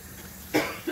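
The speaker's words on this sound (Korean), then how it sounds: "저렇게 기침하실 수가 있어요" A single short cough bursts out near the mic, followed by a faint second catch of breath, over a quiet room background.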